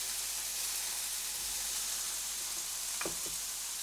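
Tomato sizzles in hot oil in a frying pan, a steady close hiss throughout, with a couple of brief soft knocks near the end.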